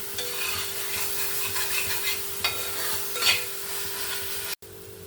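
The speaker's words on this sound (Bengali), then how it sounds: "তাহলে আমি এখানে পাঁচ মিনিট হলো মশলাটা কষিয়ে নিয়েছি" Spice paste (masala) being stir-fried in hot oil for chicken curry: a steady, loud sizzle with occasional scraping strokes of the stirring spoon against the pan, and no voices.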